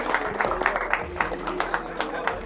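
Scattered hand claps in a quick, uneven rhythm over talking voices, moderately loud and close by.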